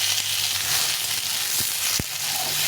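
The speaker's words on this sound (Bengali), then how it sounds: "লঙ্কাটা একটু ভেজে নিলে ঝালটা বেরোবে" Chopped green chillies frying in a pan, a continuous close sizzle with a couple of brief knocks of a utensil against the pan.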